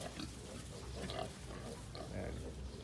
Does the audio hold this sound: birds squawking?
no